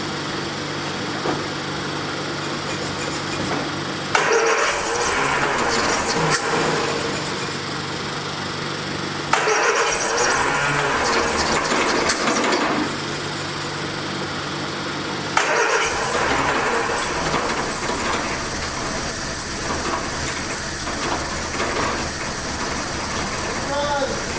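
A 1979 Triumph Spitfire engine cranks and catches several times, running in short bursts before settling into a steady, buzzy idle, close by, with people talking over it.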